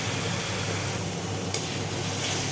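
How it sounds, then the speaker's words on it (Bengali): Spices and a bay leaf fry in oil for a ghugni, giving a steady crackling sizzle with the scrape of stirring, close and constant, with no voices. "তো মশলাগুলো বেশ কাঁচা গন্ধ যাওয়ার জন্য ভাজা ভাজা করতে হবে, বেশ নাড়াচাড়া করতে হবে"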